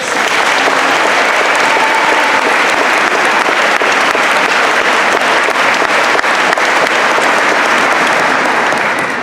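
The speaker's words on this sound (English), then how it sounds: "Let's give them a round of applause." Sustained, loud applause from a large crowd at a Seoul American High School graduation ceremony in 2017, a steady wash of clapping filling the hall without pause.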